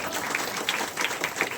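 Village birthday celebration for a father's 75th, with a seated audience giving loud, brisk applause for teachers, a short dense burst of clapping.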